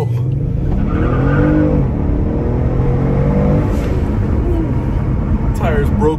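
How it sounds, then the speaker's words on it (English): Kia Stinger in sport mode with a throttle response controller set to race mode, launching hard as the tires break loose, a steady loud engine roar with rising squealing tones, close and continuous with voices present. "And now with the Stinger in sport mode and the throttle response controller in race mode, intensity level 9, let's go ahead and do a quick launch."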